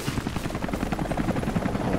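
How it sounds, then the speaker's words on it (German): Helicopter in the action-adventure game Rise of the Tomb Raider, rapid rhythmic rotor thumping, loud and close, continuous throughout with dense broadband noise. "was war das für ein Hubschrauber?"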